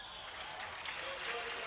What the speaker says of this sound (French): Le public, ici à Genève, applaudit indifféremment les deux équipes.